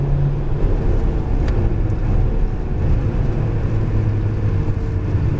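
An Alpine A110R sports car on a race track, its engine droning loud and steady with a low rumbling tone as it accelerates, heard close up from inside with no talk.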